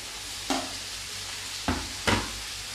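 Potatoes go into duck meat frying in a pan for a duck and pumpkin curry, producing a continuous sizzle broken by three sharp stirring scrapes and splashes.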